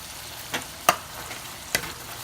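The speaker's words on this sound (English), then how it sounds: "we're going to continue cooking this until it's brown" Ground beef for burritos browns in a pan with a soft, steady sizzle, broken by a few sharp clicks and scrapes of a utensil against the pan, close and quiet with no voices.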